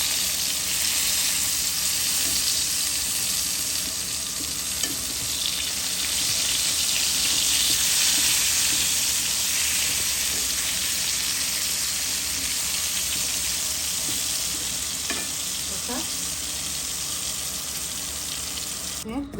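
Green chilies frying in a pan alongside fried eggplant for begun bhorta, a steady broadband sizzle running throughout with occasional faint clinks and utensil sounds.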